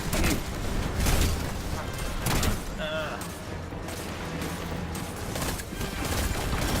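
Slow-firing gun shots in Destiny 2 go off as spaced, heavy bursts within busy game noise, with someone talking over the action.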